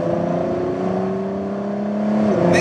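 A Ford GT engine pulls hard under acceleration, its steady droning tone rising slightly as the revs build, with a brief higher whine near the end.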